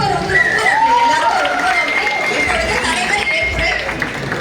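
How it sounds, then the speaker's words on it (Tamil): Loud, sustained applause fills a Tamil TV actors' association swearing-in ceremony for new office bearers, a dense wash of clapping running throughout with voices mixed in. "பலத்த கரகோஷம்."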